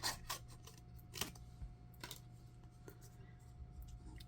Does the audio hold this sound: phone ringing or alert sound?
no